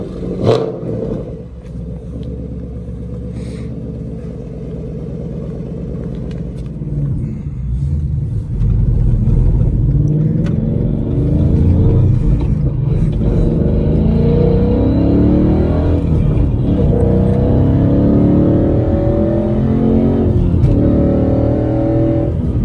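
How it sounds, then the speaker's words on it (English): A 2016 Ford Mustang GT V8 fitted with a Borla exhaust, revving loud and close, with a deep rumbling burble that swells into sustained throttle blips and roaring revs. "Man, that car sounds good."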